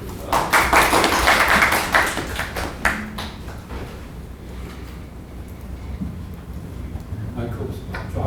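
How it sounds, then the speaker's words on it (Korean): An audience at an endpoint security seminar claps for a presenter, a dense burst of applause in the opening seconds that quickly thins out into scattered claps and room noise. "큰 박수 부탁드립니다."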